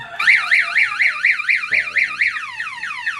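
A motorcycle anti-theft alarm wails alone and loud, its warbling siren rising and falling in a steady fast cycle, set off when the key or ignition is forced, with a low hum joining midway.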